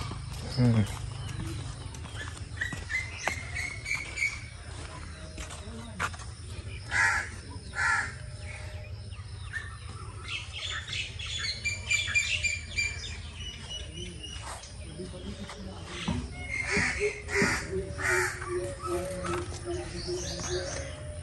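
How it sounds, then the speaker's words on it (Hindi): Crows caw repeatedly at a moderate distance over a background of outdoor noise and other birds, with a voice talking intermittently underneath. "बहुत प्यारी आवाज़ें आ रही परिंदों की।"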